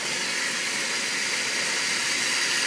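Jambalaya ingredients sizzle in a hot pot, giving a steady, broad hiss that holds at an even, fairly loud level with no speech.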